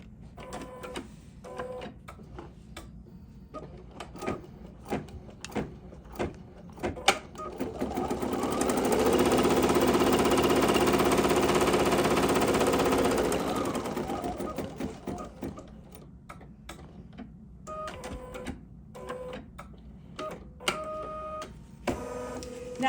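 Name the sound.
embroidery machine stitching out a design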